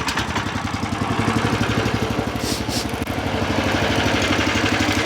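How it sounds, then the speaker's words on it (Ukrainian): A WEIMA WM1100F-6 Diff walk-behind tractor engine runs steadily after starting, a loud, close, even rhythmic putter with no talk over it. "Тепер закриваю заслонку і запускаю."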